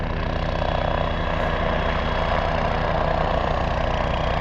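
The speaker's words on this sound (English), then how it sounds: "Flying in on a helicopter." A helicopter flies in with a loud, steady engine and rotor drone, close and unbroken throughout with no voices.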